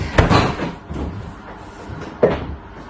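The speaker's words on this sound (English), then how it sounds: "I think the fridge door's shut" Two dull thuds of a fridge door shutting, one early and one near the end, with muffled rustling and handling noise between them.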